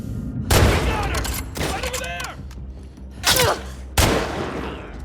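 Gunshots ring out in The Last of Us Part II, with several sharp, loud blasts and echoing tails spaced over a few seconds, while people talk over the action.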